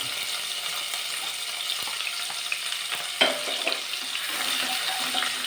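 Chopped garlic, green chillies and curry leaves frying in hot oil for chicken 65, giving a steady bright sizzle and crackle with a few sharp pops and light stirring clinks.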